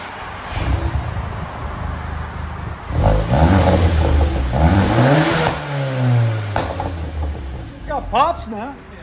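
A 2017 VW Golf GTI with a 2.0L turbo engine, front-wheel drive and a resonator-delete exhaust revs close by in several loud rising and falling pulls with raspy crackle, after a quieter idle at the start; people are talking nearby.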